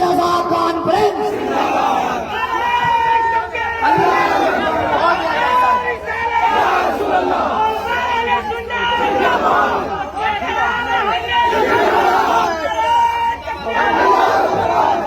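A large crowd at a Raza conference chants slogans in loud repeated bursts. The roar of voices holds through the whole stretch, over background chatter.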